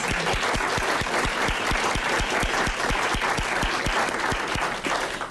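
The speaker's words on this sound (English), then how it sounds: "And let's just give them a round of applause." Audience applause fills a room, a continuous bright clatter of many hands with a steady low thumping beat running underneath throughout.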